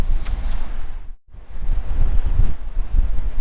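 Strong wind gusts outside a van on the road in Spain. Heavy, low rumbling buffets the microphone almost continuously, broken by one brief lull.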